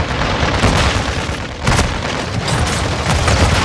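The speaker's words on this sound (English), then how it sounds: "Flashbangs." Booming grenade blasts and crackling gunfire in a multiplayer shooter match, loud and continuous with sharp bursts near the middle and toward the end, flashbangs going off amid the chaos.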